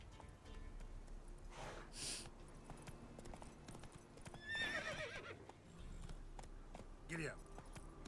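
A horse in a video game whinnies in several distinct bursts over a soft, steady clip-clop of trotting hooves, with a quiet voice talking now and then.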